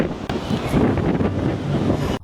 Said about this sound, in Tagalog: Lakas ng hangin ano.